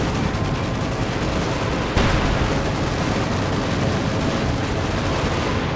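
Tank combat in the WWII strategy game Company of Heroes 2, with a Panther tank and Soviet units trading fire: dense, continuous gunfire and booming explosions overlap without pause, loud throughout, with a sharp burst just before the two-second mark.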